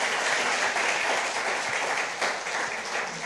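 A church congregation applauds with dense, sustained clapping that holds at an even loudness for several seconds and fills the room.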